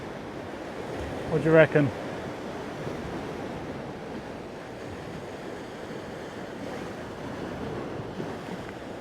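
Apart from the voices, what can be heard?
ocean surf waves breaking on a shallow sandy beach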